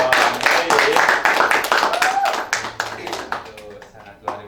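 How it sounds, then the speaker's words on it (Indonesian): An audience at a school talk session featuring flag-raising troop students claps loudly, fast and dense at first and then thinning into scattered claps, with voices and cheers mixed in. "Boleh dong tepuk tangannya dong."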